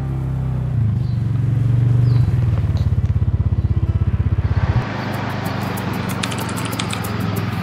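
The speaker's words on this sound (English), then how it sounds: "The dirt bike's really close now." Dirt bike engine close by in a Chilean forest, loud rough idling and revving that settles into a rapid chugging putter, then cuts to a different, hissier scene with faint clicks.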